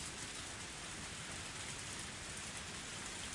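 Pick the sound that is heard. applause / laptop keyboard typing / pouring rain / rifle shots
pouring rain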